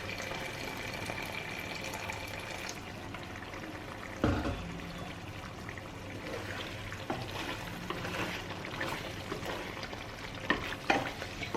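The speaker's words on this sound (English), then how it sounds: "Now I'm going to add a little bit of water." Water is poured into a kadhai of sizzling chicken curry, a soft splash followed by quiet, steady frying and stirring heard up close at low volume.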